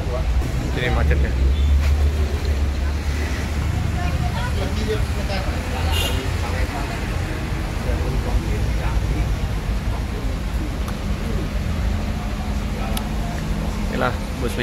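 Road traffic in a jam near a bus in Palembang, a steady low engine rumble and broadband roadway noise with background voices and babble throughout, a few brief knocks standing out.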